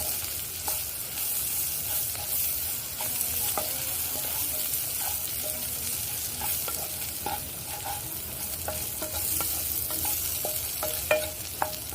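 Masala with turmeric, chili and chicken masala stirred and frying in a pan, a steady sizzle with scraping spoon strokes recurring throughout, close and continuous with no talk.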